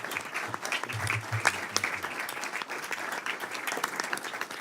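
Applause fills a congressional committee markup room, a moderate, uneven patter of many hands with individual claps standing out and some low rumbles early on.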